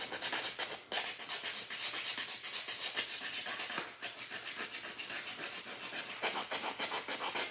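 A knife scraping and shaving a wooden spoon in steady rasping strokes, continuous and close, with a brief pause or two in the carving.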